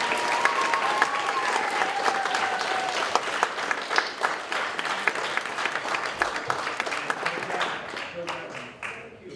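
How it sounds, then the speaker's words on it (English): Audience applause after a school band performance and clinic, steady dense clapping sustained throughout and gradually thinning toward the end, with a voice faintly heard beneath early on. "So how about a round of applause?"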